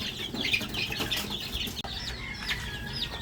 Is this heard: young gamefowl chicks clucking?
yes